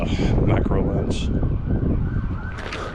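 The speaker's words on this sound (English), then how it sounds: "There's an ambulance." An ambulance siren wails near a city rooftop, its rising and falling tone heard over steady wind noise and traffic, fairly loud and close throughout.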